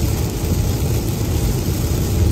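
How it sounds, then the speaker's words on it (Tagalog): Heavy storm rain pours down in a dense, continuous roar with a deep low rumble, steady and loud throughout with no voices. "Bakit naman, Lord, kinaon mo ng ganitong kalakas ang ulan?"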